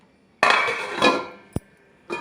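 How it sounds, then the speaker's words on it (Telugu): A metal lid clanks onto a pot of water heating for semiya upma, ringing briefly, followed by a sharp tap and another metallic clatter; no voices. "ఇప్పుడు మూత పెట్టేసేద్దాం"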